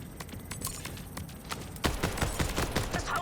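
Rapid gunfire in Borderlands 4 as pipes are shot to release pressure in a flooding room, a dense run of sharp cracks that gets louder and heavier in the second half, with no talk.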